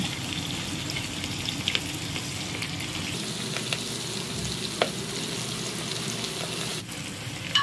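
Konda pindi leaves sizzle in hot oil with curry leaves, green chilies and onion, a steady close frying crackle with a few faint stirring clicks and no voices.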